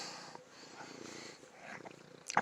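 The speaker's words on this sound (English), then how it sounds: "He's everybody's cat." A cat purrs softly and continuously at close range, a gentle rumbling drone with no talking, ending in a brief louder rustle.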